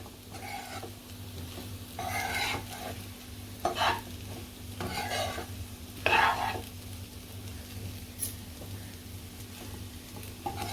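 Cooked sabudana khichdi stir-fried in an open pan, close sizzling under a constant low hum, with repeated bursts of spatula stirring and scraping, no talk.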